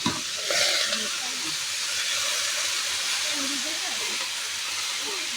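Spinach greens hit a hot pan with onion, turmeric and salt, setting off a loud, steady hiss of frying that holds for several seconds, with faint voices underneath.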